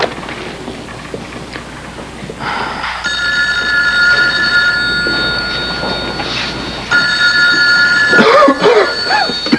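A vintage telephone bell rings in bursts in a 1981 soap-opera scene, moderately loud over a noisy, rumbling background, with a brief cough or voice sound near the end.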